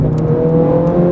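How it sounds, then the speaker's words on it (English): A 2009 Ferrari 430 Scuderia's 503-horsepower V8 drones through its active exhaust, a loud steady engine note heard from inside the car with no talk over it. "you've got a 503 horsepower V8 behind your head with a set of active exhaust pipes that when you lean in enough, you'll hear it change"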